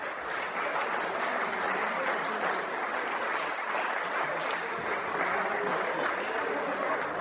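Sustained audience applause at a mountain-bike challenge podium ceremony for the Masters 50 category, a steady dense wash of clapping from a crowd, heard alone without talk.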